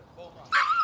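A dog lets out one sharp, loud bark about halfway through, at a dog training class, with people chatting in the background.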